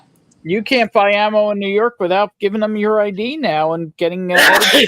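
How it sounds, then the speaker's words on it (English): Someone talks steadily, then a single sharp, loud sneeze bursts out at the very end. "I'm not dying. I'm just sneezing."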